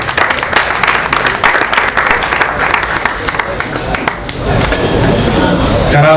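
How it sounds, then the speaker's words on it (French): An audience at a slam poetry show in Bamako claps for the poet Mariam, a burst of dense applause that fades after about four seconds into crowd murmur and noise. "applaudissez s'il vous plaît pour Mariam"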